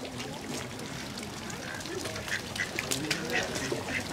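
Ducks quack in short, scattered calls on the lake at Hallstatt, Austria, moderately close, over lapping water and a busy outdoor background with people talking.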